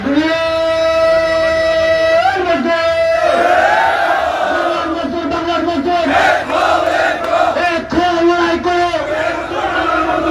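A crowd of CNG auto-rickshaw owners and workers at a protest rally chants slogans together, a loud, close wall of voices with a leading voice at first before many join in rhythmic unison.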